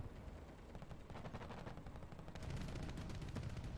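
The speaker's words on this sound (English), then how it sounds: "I hear gunfire over here" Dense, rapid bursts of video game gunfire rattle continuously, mixed with distant explosions and rumble, growing slightly louder toward the end; no voices.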